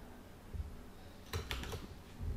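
Keys tap on a computer keyboard in a quick, faint burst of a few clicks in the middle of a quiet room, without any talking.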